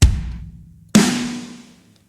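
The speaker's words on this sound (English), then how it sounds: "The kick and snare sound like this." A Pop Punk preset kit in Superior Drummer 3 plays a deep kick followed by a ringing snare hit, two close, loud, isolated strikes with decaying tails.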